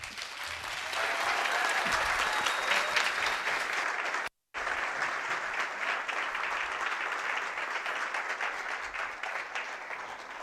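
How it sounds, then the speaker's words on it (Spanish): Sustained audience applause at a conference in Chile, steady and fairly loud throughout with a brief cut near the middle, no speech over it. "Un fuerte aplauso."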